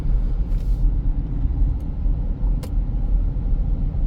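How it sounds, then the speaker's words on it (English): Steady low road rumble and tire roar fill the cabin of a 2022 Jeep Grand Cherokee Limited 4x4 driving on a city road, a continuous loud drone with a couple of faint higher clicks. "I'm getting some cabin noise, I'm getting some tire noise already"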